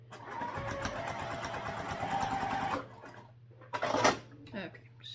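A sewing machine stitches a D-ring holder onto a sling: a fast, steady run of mechanical stitching that stops abruptly, followed by a few clanks and rustles from handling the fabric, all fairly quiet.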